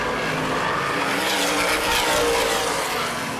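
Sprint cars race around a dirt speedway in a continuous loud engine roar, the pack's whine swelling and fading as cars close in on slower traffic.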